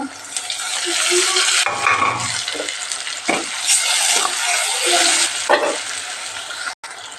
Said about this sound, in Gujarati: આપણે ટમેટા નાખી દઈએ